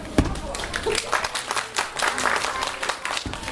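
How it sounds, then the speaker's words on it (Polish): An audience claps for a winner at a preschool recitation contest's awards. The clapping is moderate and uneven with a few thumps, and a voice can be heard talking over it. "Wielkie brawa."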